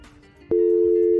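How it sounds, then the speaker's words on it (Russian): In a role-play video game, a phone call's single steady electronic tone cuts in abruptly and holds loud and unbroken after a brief quiet moment. "Ну тогда, чувак, я сейчас звоню нахер Лестеру, и он тебя кончает"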